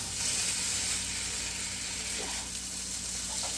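Street-style fried rice is being mixed in a hot pan, giving a loud, steady sizzle and hiss that continues throughout with faint stirring movement underneath.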